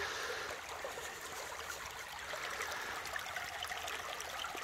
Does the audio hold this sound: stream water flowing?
yes